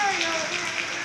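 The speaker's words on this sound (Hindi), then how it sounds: "तो अब जाके बहुत तेज़ बारिश हुई है" Heavy rain pours down outside in a dense, steady hiss that fills the whole moment, with a faint voice present underneath.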